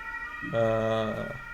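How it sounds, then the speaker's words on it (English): An ambulance siren sounds outside, a clear, loud wailing tone that swells and then fades over about a second against a quiet room background. "Oh my god, there's yeah, an ambulance."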